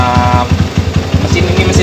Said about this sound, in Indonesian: ini mesin Tiger ya, full Tigeran.